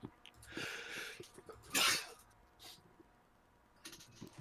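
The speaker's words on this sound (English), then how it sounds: "Sneeze is coming so fast." A single sharp sneeze bursts out in the middle, surrounded by breathy sniffs and throat noises, quiet and close during a Football Manager 2024 live stream.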